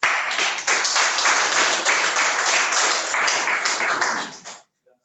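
A dense, loud burst of audience applause greets a speaker at an entrepreneurs' master class panel, steady clapping that lasts several seconds and then stops abruptly.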